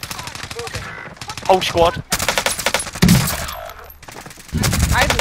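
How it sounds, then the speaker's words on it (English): Rapid video game gunfire in bursts, loud and close, with players talking over and between the shots. "Somebody's shooting."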